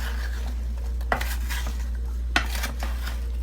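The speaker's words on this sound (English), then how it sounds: "And then we just need to give it a quick stir to combine all the ingredients. So I'm just going to stir it up a little." A spoon scrapes and clinks through apple pie filling with cinnamon in a slow cooker pot, a soft scraping stir broken by two sharper knocks against the side, close and with no speech.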